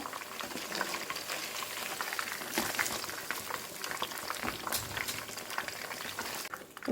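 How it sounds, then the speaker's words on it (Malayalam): Korean chicken pieces deep-frying in hot oil, a dense, steady bubbling sizzle close up with occasional sharper crackles and pops, continuing without talking. "ഇത് ഫ്രൈ ആക്കി മാറ്റിയതിന് ശേഷം നമുക്ക് അടുത്ത ചിക്കൻ ഇടാം."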